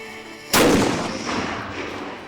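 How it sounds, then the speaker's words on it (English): A single heavy Civil War cannon blast fired with a reduced powder load goes off abruptly, booming loud and close, then rolls away in a long fading rumble. "the cannon crews are firing reduced powder loads"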